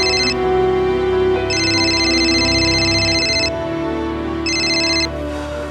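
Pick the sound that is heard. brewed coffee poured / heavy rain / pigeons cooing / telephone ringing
telephone ringing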